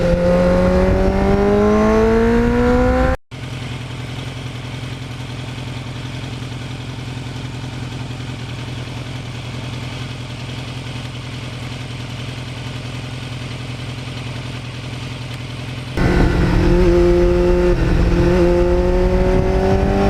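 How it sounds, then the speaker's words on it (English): Kawasaki GPX750R Ninja motorcycle engine, loud and close, revving with rising and falling pitch before cutting to a steady, deep idle-like drone, then revving again near the end; no voices. "This is the loudest bike in my collection."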